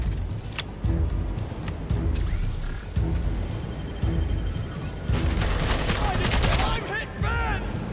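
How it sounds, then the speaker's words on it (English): Repeated bursts of gunfire and booms from the RoboCop arcade game, loud and continuous across the stretch, with a sustained high electronic tone and other game effects layered in. "Who's shooting at me and from where?"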